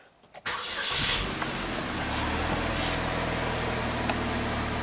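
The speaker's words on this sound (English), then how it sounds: "Let's start the car up." A Chevy Malibu engine with electric power steering trouble (code C0545) cranks briefly and catches, roaring up loudly before settling into a steady, close idle with a bright high-pitched whine.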